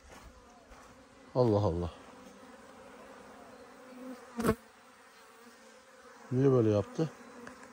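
Honeybees at a beehive drone in a steady buzzing hum throughout, close and continuous, with a voice speaking briefly over it twice.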